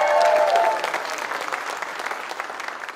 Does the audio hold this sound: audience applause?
yes